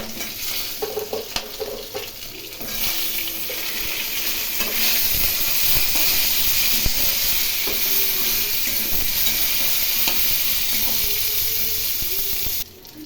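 Eggplant pieces drop into hot oil already tempered with black cumin seeds and green chillies for a Bengali hilsa fish curry. A loud, steady sizzle erupts and holds close up, with faint stirring scrapes and no talking.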